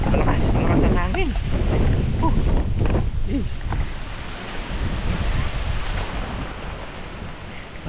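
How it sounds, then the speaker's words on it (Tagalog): Strong wind roars and buffets the microphone throughout, with a voice speaking briefly over the rushing noise early on. "Malakas ang hangin."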